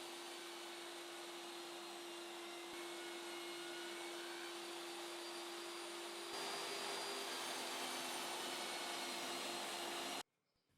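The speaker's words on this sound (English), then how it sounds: "I mounted the dado stack on the table saw to make some cuts prior to routing it for the holding system." A table saw fitted with a dado stack runs continuously while cutting sturdy plywood in a workshop, a loud, steady whine with a strong tonal hum that holds for about ten seconds and then cuts off abruptly.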